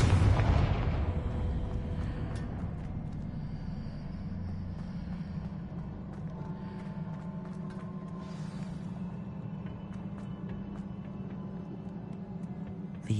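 Confringo fire spell blast in Hogwarts Legacy on PS5, a loud booming explosion at the start that fades into a sustained rumbling roar with scattered crackles, no talking.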